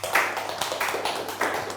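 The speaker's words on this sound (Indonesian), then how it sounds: "tepuk tangan buat Bapak Ari" A small group gives brief, scattered applause for a participant, light claps and taps in a few soft bursts rather than a full ovation, with no voices over it.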